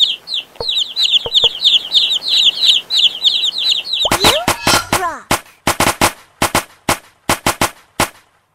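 Cartoon-style chicks in a counting game for children: rapid high cheeping runs for several seconds, then louder separate clucks and popping sounds arrive in an uneven series, with no talking.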